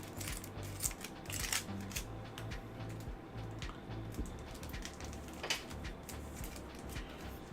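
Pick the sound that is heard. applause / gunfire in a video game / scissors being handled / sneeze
scissors being handled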